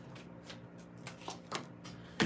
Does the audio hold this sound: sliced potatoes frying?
no